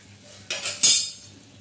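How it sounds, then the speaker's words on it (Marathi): A spoon stirring jaggery and water in a metal pot for semolina lapshi, two short scraping clinks against the pot close by, with a quiet background between them. "असं मस्त हलवून घ्यायचं."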